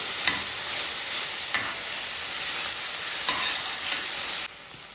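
Chopped ripe tomatoes sizzle steadily in a hot pan for a homemade tomato chutney, a bright continuous hiss with a few soft stirring clicks, cutting off abruptly near the end.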